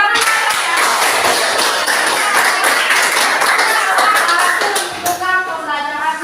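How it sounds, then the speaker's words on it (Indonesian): A university class applauding in an Indonesian classroom lesson on biodiversity, steady dense clapping from a group of students that continues throughout, with some murmuring voices mixed in and a brief dip near the end. "Oke, pintar. Tepuk tangan."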